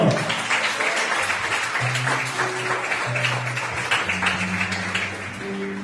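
A church congregation claps steadily throughout a worship service, a dense wash of applause with a faint background hum of voices or music.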